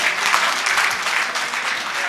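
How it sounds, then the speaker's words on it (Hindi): Loud, dense applause from the audience at a grand ceremony marking the founding of a gurukul with Muni Pramansagar, a continuous roar of many hands close by, with a faint voice underneath. "एक बार जोरदार तालियां आज के इस भव्य कार्यक्रम के लिए"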